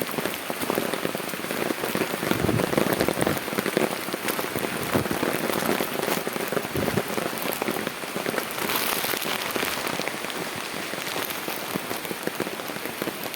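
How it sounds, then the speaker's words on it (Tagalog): Heavy typhoon rain pours down steadily, a dense, loud hiss of drops drumming on surfaces without pause, no voices over it. "ulan."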